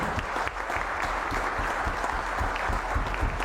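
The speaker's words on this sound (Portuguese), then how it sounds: "Então eu acho que a Lila merece também uma grande salva de palmas de nós todos." Steady applause from a crowd at a medal ceremony fills the whole stretch, dense continuous clapping at an even loudness with no pauses.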